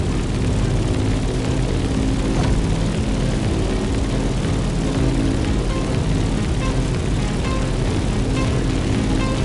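A propeller airplane engine drones steadily and loudly in The Crew Motorfest as the plane climbs, a continuous broadband roar with low harmonic hum holding constant for the whole stretch.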